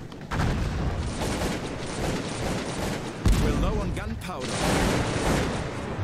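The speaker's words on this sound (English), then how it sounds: "Two musketeer squads of Prussia shot a volley and made two squads of Poland disintegrate." Prussian musketeer squads fire a volley in the video game Cossacks 2: a dense crackle of massed musket shots with booming reports, continuous for several seconds over battle noise.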